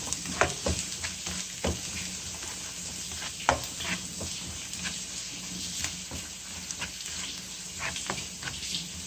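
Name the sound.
sautéing onion and garlic in a pan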